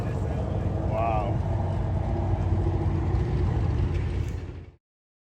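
A loud car engine roars continuously nearby at high revs, holding a steady heavy rumble before cutting off abruptly near the end, with a brief voice-like sound early on.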